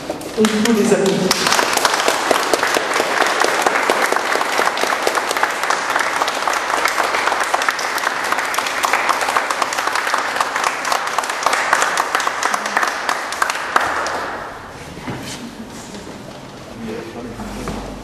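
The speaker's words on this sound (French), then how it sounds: "On peut les applaudir." A church congregation applauding a newly married couple at a wedding: sustained, full-room clapping that swells for about fourteen seconds, then fades as a voice speaks.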